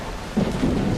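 Thunder rolls in a low, steady rumble through a storm in the Solar Punk video game, with a heavier swell partway through and a continuous hiss of rain behind it.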